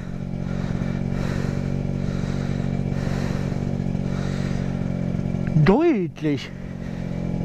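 An Aprilia SR50R scooter's small two-stroke engine idles and buzzes steadily nearby, then rises sharply in a quick rev and drops back, with someone speaking briefly over it.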